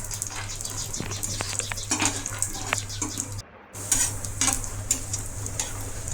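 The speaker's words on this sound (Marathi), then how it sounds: "तेल गरम झाल्यानंतर 1 वाटी शेंगा टाकून भाजून घेते तेलामध्ये." Peanuts roast in hot oil while being stirred, giving a bright crackling sizzle broken by clicks and scrapes of the spoon. A brief gap of near silence falls midway before the frying resumes.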